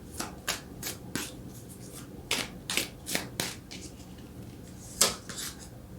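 Tarot cards being shuffled and drawn by hand, heard as a series of crisp, separate riffling bursts and card flicks at close range, irregularly spaced, with one sharper snap near the end.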